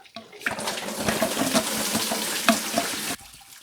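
Radiator coolant splashes from a Jeep Cherokee XJ into a bucket, a close, continuous watery pour and spatter lasting about three seconds before stopping abruptly.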